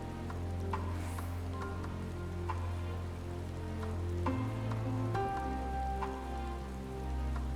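Steady rain pattering across the ground in Final Fantasy XIV: Endwalker, a continuous even wash under a low droning game ambience and music, with no talk.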